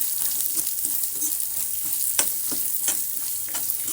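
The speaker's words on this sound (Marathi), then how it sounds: "हे सगळं मिश्रण घालून आपण थोडंसं भाजून घेणार आहोत" Peanuts roast in a pan with garlic, grated coconut, cumin and sesame, giving a steady dry sizzle with scattered crackles and occasional stirring scrapes, close and continuous, with no voices.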